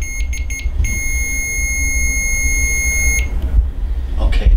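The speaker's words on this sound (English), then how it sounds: "We make it beep one more time." An electronic device beeps during a paranormal investigation: a few short, sharp beeps, then one sustained high tone lasting about two seconds, loud and close, followed by faint room noise.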